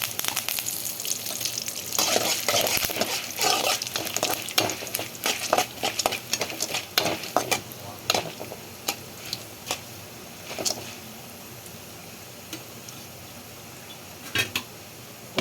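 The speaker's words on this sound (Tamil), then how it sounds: "பருப்பும் பருப்பும் காஞ்ச மிளகாயும் போடுறேன் அதோட கொஞ்சம் கருவேப்பிலை" Lentils, dried chillies and curry leaves crackle and sizzle in hot oil for coconut rice, with a busy burst of popping and stirring that thins into scattered spoon clicks against the pan.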